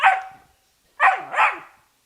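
A riled-up puppy barks three times, near and loud: one sharp bark, a pause, then two quick yelping barks in a row, with nothing else heard around them.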